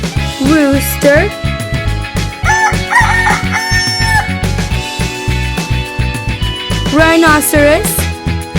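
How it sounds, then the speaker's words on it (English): A rooster crows repeatedly, several loud cock-a-doodle-doo calls at the start, middle and end, heard over steady background music in a children's animal-names clip. "Rooster."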